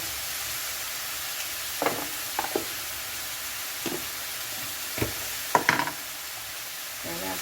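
Mixed vegetables with fish balls and glass noodles stir-fried in a pan, a steady soft sizzle and hiss with a few sharp knocks and scrapes of the utensil scattered through.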